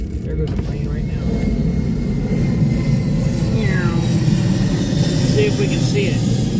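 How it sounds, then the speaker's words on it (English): An airplane passing overhead, heard as a steady, loud, low engine rumble that swells slightly and holds throughout, with the faint sounds of someone outdoors nearby. "Can you hear that? There goes a plane right now."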